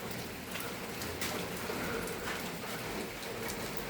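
A steady downpour of heavy rain in Kannur, Kerala, thick and continuous, drops drumming on nearby surfaces without any voices.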